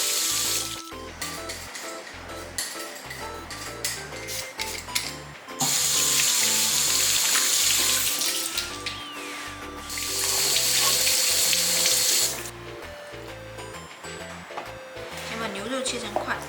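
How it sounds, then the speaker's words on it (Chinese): Tap water runs into a sink while potatoes are washed for a beef and potato stew, a steady splashing stream that stops and restarts in bursts, with music playing underneath. "先把土豆洗干净。"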